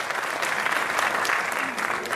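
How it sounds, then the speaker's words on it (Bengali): An audience applauds the keyboard, pad and guitar players at a cultural program, a steady dense wash of clapping that holds evenly loud throughout with no other sound standing out. "একটি করতালি হয়ে যাক"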